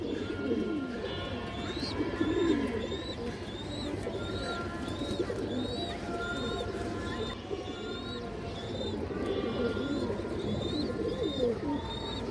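Colourful domestic pigeons coo repeatedly in a loft, a soft, low rolling chorus with overlapping calls and occasional higher chirps, fairly close and continuous.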